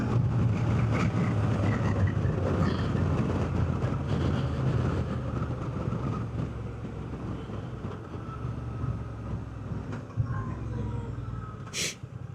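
A 2024 Honda Transalp or Africa Twin motorcycle engine pulls hard under acceleration while riding, a loud continuous low drone with wind rush throughout and no talk.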